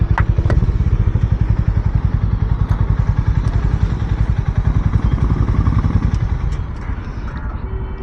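A Harley-Davidson X440 motorcycle runs close by with a loud, steady engine rumble and throbbing low pulses, tapping and clattering on top, before the level drops slightly near the end.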